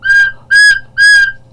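A recorder head joint blown on its own without tonguing gives three sustained, airy high whistle tones separated by short gaps, close and loud with no voices.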